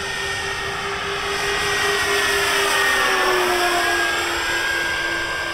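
A Motion RC 63-inch P-38 model plane flies past at full throttle on a 4S battery pack, its electric motors whining in a steady high tone that slides in pitch as it passes, loud and unbroken, with no voices.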